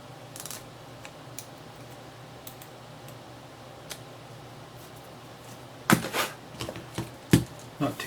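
Thin excess clear resin being cut off a Game Boy Advance shell makes faint ticking snips, sparse at first, then a cluster of sharper clicks and cuts near the end over quiet room noise.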